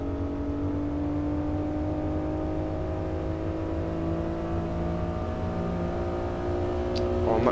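Honda NSX engine in the Assetto Corsa racing game, hotlapping at Imola, droning loud and steady at high revs with rising whine, shifting near the end.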